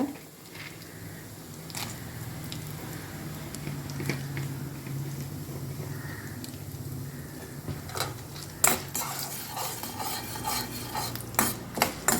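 Chana dal, urad dal and peanuts roasting in hot oil, stirred in a pan with soft rustling, a gentle sizzle and scattered sharp clinks of a spoon against metal.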